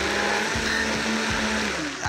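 A blender whirs steadily while blending coriander leaves into a guacamole cream, a close continuous motor hum with slight pitch dips as the blades pulse, then a brief stop at the end.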